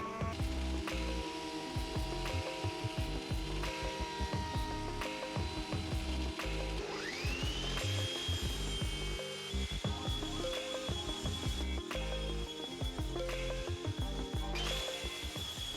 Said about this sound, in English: surfaced them on the planer, the jointer, and the table saw